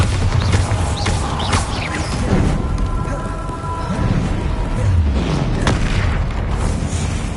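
A Bombarda explosion spell goes off in the Hogwarts Legacy video game, a loud, deep boom with rumbling bursts and crackling debris that keeps rolling through the scene without any speech.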